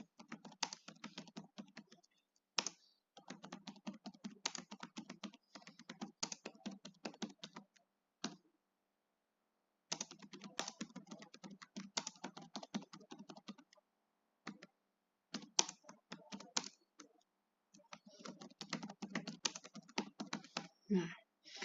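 Typing on a computer keyboard while entering data into a teacher performance form: long runs of rapid, close key clicks broken by short pauses, fairly quiet and with no talk over it.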